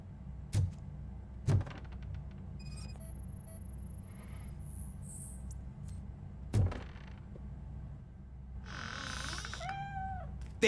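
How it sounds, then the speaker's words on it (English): A cat meows in the video game RoboCop: Rogue City, a few short calls near the end amid quiet ambience, sharp knocks and a faint high whine, with no talk. "The cat is fine."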